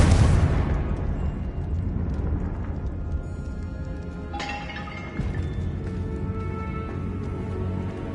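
A Confringo spell blast in Hogwarts Legacy: a loud, close explosive burst at the start that rumbles and decays over several seconds, followed by a second, smaller crackling impact.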